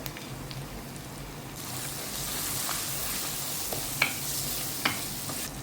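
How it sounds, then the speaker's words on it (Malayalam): Coconut pieces and green chillies sauteing in oil for a Kerala-style chicken curry, giving a continuous close sizzle with a few light clinks of stirring, no voices. "നമ്മളിട്ട് കൊടുത്ത തേങ്ങാക്കൊത്തും ആ പച്ചമുളകും എല്ലാം ഒക്കെ നല്ലതായിട്ട് വഴണ്ട് വന്നിട്ടുണ്ട്"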